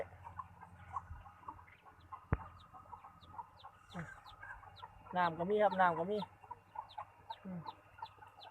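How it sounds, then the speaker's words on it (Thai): Chickens on a small integrated one-rai farm cluck now and then, and a louder burst of clucking rises midway, all beneath someone talking. "ไก่ก็มี"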